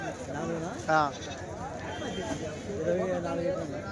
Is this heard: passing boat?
no